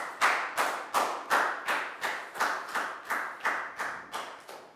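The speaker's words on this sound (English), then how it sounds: "Big round of applause for Bangpon," Classroom students clap in a steady rhythm, about eleven sharp claps in under five seconds, close by and fairly quiet, with no talking.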